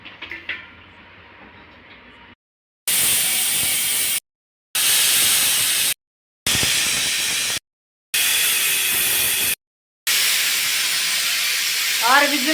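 A pressure cooker vents steam in several loud, separate bursts of broad hissing with short silences between them, after a quieter stretch at the start.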